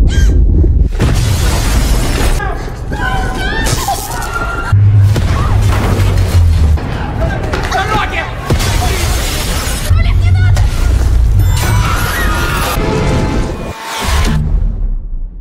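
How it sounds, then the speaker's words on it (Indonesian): Asteroid impacts destroy city buildings in a meteor-shower disaster film, with repeated loud booms, crashes and shattering debris that roll continuously under a narrator speaking. "Hantaman dari asteroid membuat gedung-gedung di kota tersebut mulai hancur."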